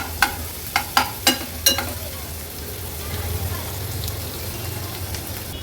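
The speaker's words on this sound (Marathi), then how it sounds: "कांदा पण तेलावर व्यवस्थित शिजवून घ्यायचा आहे।" Chopped onion fries in oil in a pan, a steady soft sizzle preceded by five sharp clinks of a spoon stirring against the pan.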